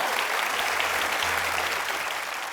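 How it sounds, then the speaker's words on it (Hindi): A studio audience at a TV comedy show applauds loudly and continuously, a dense steady clapping that fades slightly at the end. "आप सबकी जोरदार तालियों के बीच में इनवाइट करना चाहूंगा"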